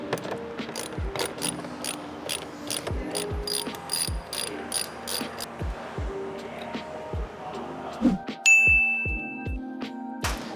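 A 10mm socket on a ratchet turns a bolt inside a Ford Mustang GT door, a long run of sharp, evenly spaced ratchet clicks close up, ending with a few metallic taps and a ringing ding.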